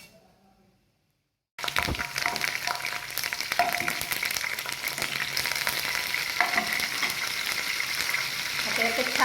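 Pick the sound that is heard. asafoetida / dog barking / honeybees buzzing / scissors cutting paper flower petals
asafoetida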